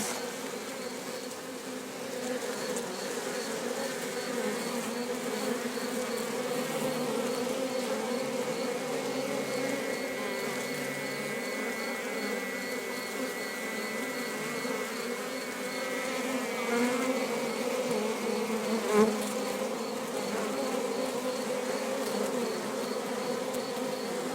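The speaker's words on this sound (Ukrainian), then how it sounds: "Колода роїться, нічого не поробиш. Так бджоли розмножуються." A swarm of honey bees buzzing around a log hive outdoors, a dense, continuous droning hum from many insects, steady and fairly close for the whole stretch, no voices.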